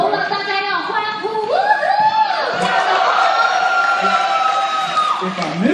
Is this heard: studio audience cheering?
yes